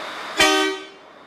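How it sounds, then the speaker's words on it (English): A truck horn gives one short, close blast during an in-cab inspection, a brief toot that fades within a second. "Horns."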